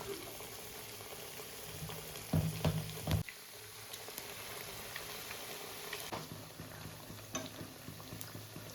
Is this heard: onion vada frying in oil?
yes